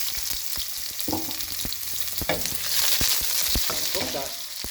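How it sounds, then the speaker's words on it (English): Onions frying in olive oil in a pan, with a steady hissing sizzle up close and sharp clicks and scrapes of stirring cutting through it. "We are going to add some olive oil. And then we're going to add our onions."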